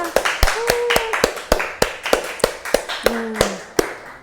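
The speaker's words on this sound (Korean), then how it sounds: "우렁찬 박수 소리가 저에게 힘을 또 불끈 갖게 합니다" Scattered handclaps from a small audience at a live Korean skincare training session, sparse and uneven sharp claps repeating through the clip, with brief tonal chirps in between and no talking.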